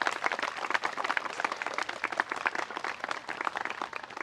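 A crowd applauds a group of elementary school fourth graders at an outdoor commemorative ceremony, a moderately loud, rhythmic patter of many hands clapping, steady throughout with no talking.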